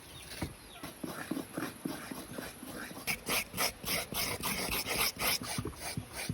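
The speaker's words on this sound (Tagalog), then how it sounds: "pwede na magsimula sa pagkakayod at gumamit nga pala ako dyan ng kutsara" Repeated scraping of cooked food with a metal spoon while preparing kaluko, a rhythmic series of short rasping strokes that grow denser and louder toward the end, close by, with no talk.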